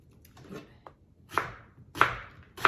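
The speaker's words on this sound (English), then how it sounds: "we know we all get teary-eyed when we cut onions, but using a super sharp knife" An onion cut with a very sharp knife on a board, heard as a few soft slices followed by three crisp, evenly spaced chops that land close and clear.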